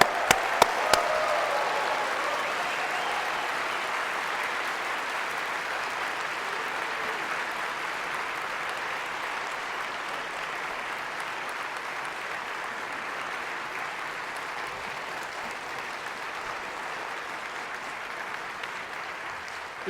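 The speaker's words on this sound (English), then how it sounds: "please give a round of applause to the local organized committee" A large conference audience at a closing ceremony applauds the local organizing committee, a broad, continuous wash of clapping holding steady for twenty seconds after a few sharp claps at the start.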